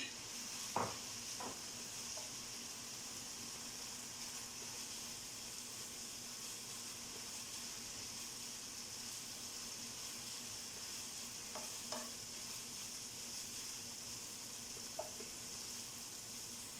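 Minced meat sizzles steadily in a pan, a constant close frying hiss with a few faint clinks of stirring.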